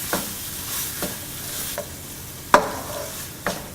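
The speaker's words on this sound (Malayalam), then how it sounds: "ടൊമാറ്റോ ശരിക്കും സോഫ്റ്റായി അലിയുന്നത് വരെ വഴറ്റണം." Tomatoes being sautéed in a pan for chicken curry: a low steady sizzle under a few distinct spatula scrapes and knocks against the pan, spaced about a second apart, with no voices.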